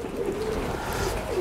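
A Teddy pigeon gives a soft, low, continuous coo lasting just over a second, heard close against a faint background hiss.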